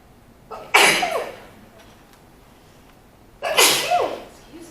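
Two loud sneezes a few seconds apart, each a sharp breathy burst, heard up close during a panel talk with no speech between them.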